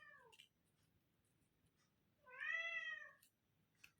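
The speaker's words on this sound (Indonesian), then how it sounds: "itu kucingnya kok bunyi terus, kenapa toh?" A domestic cat meows repeatedly indoors, two clear drawn-out calls close to the microphone with a short chirp before them, over a faint low background hum.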